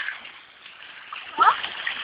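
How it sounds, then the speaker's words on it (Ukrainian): Floodwater splashing and spilling out during a village flood in Verkhnia, a continuous wet rush with a brief louder splash near the end. "Тут вода все виливає."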